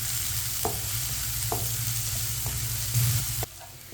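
Onions sizzle steadily in a pan on the stove while a spoon scrapes and stirs them in a few distinct strokes, a continuous low frying hiss under sharp intermittent taps, no talking.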